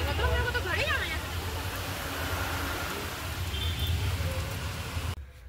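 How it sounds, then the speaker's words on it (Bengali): Steady rain falls outside a shop at night, around 9:20 pm, as an even wash of hiss. A voice is heard briefly at the start, and the sound cuts off abruptly near the end. "এখানে বৃষ্টি শুরু হলো বাইরে"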